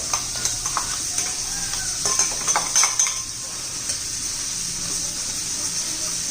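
Ground coconut and peanut masala sautéing in a pan, a steady close sizzle with repeated scraping and stirring strokes of a spoon, a few louder clinks in the middle, no talking.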